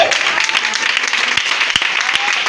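A church congregation applauds in steady, dense clapping during a sermon, with a voice faintly audible beneath the applause.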